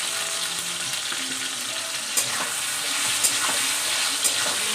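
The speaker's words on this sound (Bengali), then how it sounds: "ভালো করে লাল করে ভাজবো আলুটা।" Potatoes frying in a pan with salt, a loud dense continuous sizzle with a few light stirring knocks, close and steady, no talk.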